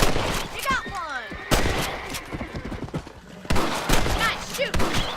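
Gunshots fired at rabbits in the western game Red Dead Redemption, several sharp loud cracks spaced apart among outdoor ambience, with voices talking in between.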